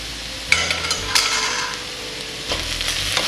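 Curry powder, thyme and grated garlic stirred in a hot pan, with a steady sizzle of frying and a few scraping knocks of the spoon against the pan, close and alone with no talk.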